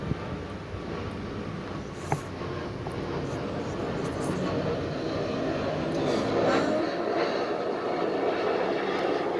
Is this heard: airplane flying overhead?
yes